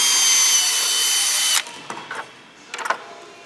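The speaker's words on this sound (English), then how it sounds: "That way I can just do them all at once, grab them, countersink my holes." A power drill countersinks holes with a close, high whirring spin for about a second and a half, then stops, followed by a few light clicks and taps.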